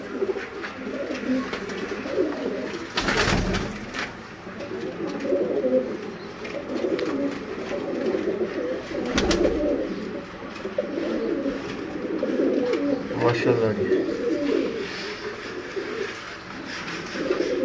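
Pigeons and quail in a Sialkot breeder's pens coo continuously in a low, overlapping chorus, with a couple of sharp knocks and a man's brief remark.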